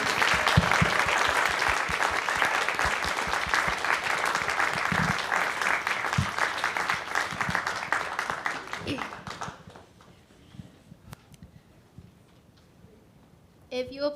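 Audience applause at a Unitarian Universalist church Sunday service, a dense sustained clapping from the congregation that fades away after about nine seconds, leaving a quiet room.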